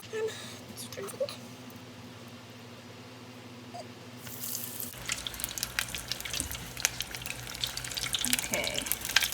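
Battered onion frying in hot oil, a quiet crackle at first that bursts into loud, dense sizzling and popping midway and keeps building, close up, with a voice briefly audible over it.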